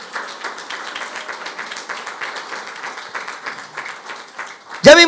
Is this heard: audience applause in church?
yes